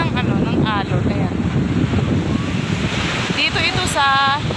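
Big ocean waves breaking on the shore at Infanta, Quezon, a continuous rushing surf roar with wind buffeting the microphone, while people talk and call out over it.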